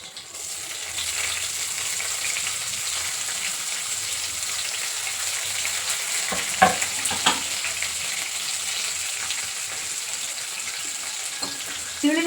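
Chopped onions sizzle in hot oil with green chillies and curry leaves as the tempering for dhaba-style dal tadka: a steady, close frying hiss, with a few sharp stirring clinks partway through.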